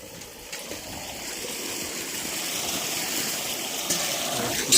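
Pumped irrigation water gushes steadily into a sugarcane field after a motor is started, a continuous broadband rush that stays loud and close throughout.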